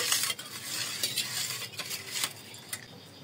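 Vinegar and water being mixed in a container, with soft irregular stirring swishes and light clinks of a spoon against the side, close and fairly quiet.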